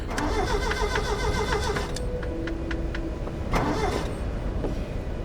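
A car engine in the video game Tomb Raider (2013) cranks and starts, then settles into an idle, with electronic tones and clicks layered over a steady, loud rumble.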